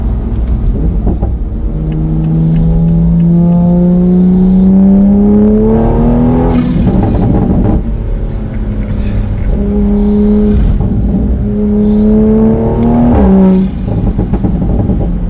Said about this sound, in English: it actually kind of tones up the pops and everything.